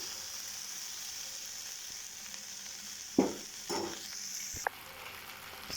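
Tomato and green chillies frying in a pan for upma give a steady, quiet sizzle, broken by a few short stirring scrapes and clinks near the middle; no one talks.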